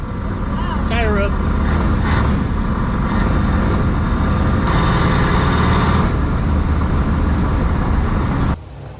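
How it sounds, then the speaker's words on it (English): A mural-painted van with rusted pulleys and freshly fixed brakes rolls down the road while a tire rubs, a steady scraping drone buried in loud engine and road noise, with people talking over it. "Wow. Tire rub."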